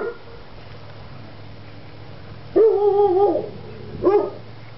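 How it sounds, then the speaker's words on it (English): A dog near a yard of old motorcycles gives two loud, close barks a second or so apart, the first drawn out and the second shorter, over quiet background. "Dog that likes to never shut up."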